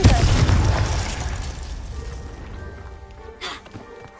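A Confringo spell explosion in the Hogwarts Legacy video game, opening with a loud, deep boom that decays into a rumbling tail, with a brief sharper crack afterward.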